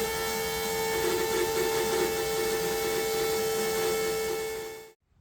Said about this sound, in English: And this is my second fuel pump.